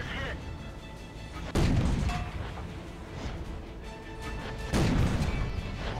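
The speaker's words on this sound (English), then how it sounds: "Artillery finishes off the T1." Artillery fire in the World of Tanks video game, heard as two loud, deep booming blasts a few seconds apart with a rumbling tail under steady background noise.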